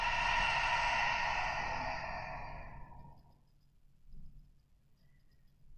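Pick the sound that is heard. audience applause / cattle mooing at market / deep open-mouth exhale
deep open-mouth exhale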